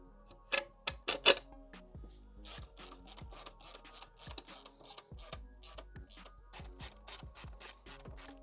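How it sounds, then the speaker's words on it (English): Ratcheting clicks from a socket wrench tightening bolts on an ignition bracket of a Buick Grand National, a fast rhythmic series of close mechanical ticks with a few louder snaps early on, no talking. "So tightening up the last few bolts"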